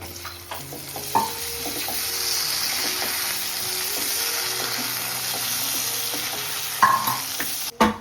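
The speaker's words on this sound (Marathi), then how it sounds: "तर चला आता आपण टॅमॅटो टाकून घेऊ" Tomatoes are tipped into a hot pan for a drumstick leaves curry, bringing a steady close sizzle with occasional stirring clinks and scrapes and a couple of sharper knocks near the end.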